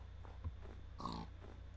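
Pig oinking in Minecraft: a short grunt amid a steady low game-world drone, with a couple of faint snorts around it, fairly quiet and fairly close.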